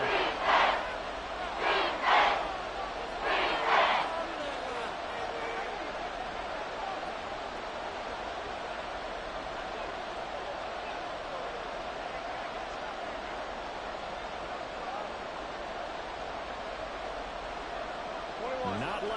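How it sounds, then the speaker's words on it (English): Seahawks home crowd roaring through a football game in the red zone, a dense continuous wall of stadium noise with a few louder surging shouts near the start, then a sustained, steady roar. "This red zone is where the Seahawks crowd really makes it tough for an offense to communicate."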